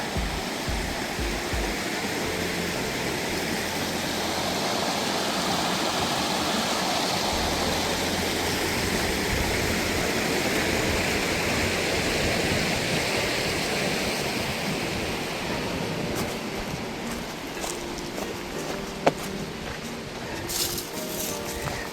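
Palmer Creek flows steadily and continuously close by, a broad hiss of rushing water, with a faint click or two late on.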